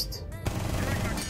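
Gunfire in a competitive shooter video game: a loud burst of rapid shots, then a brief gap and a dense sustained volley close up, with no talk during it.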